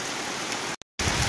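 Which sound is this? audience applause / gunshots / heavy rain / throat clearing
heavy rain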